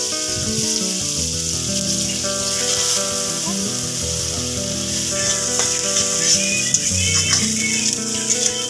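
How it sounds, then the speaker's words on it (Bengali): Soaked chickpeas fry in a wok, giving a steady, close sizzle that holds through the whole stretch. Faint stirring scrapes break in now and then. "আমি অল্প করে একটু ভিজানো ছোলা ভেজে নেব"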